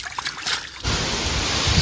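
Rainwater rushes along a flooded road in Punjab during a storm. A steady, broad washing roar begins abruptly partway through and continues unbroken to the end.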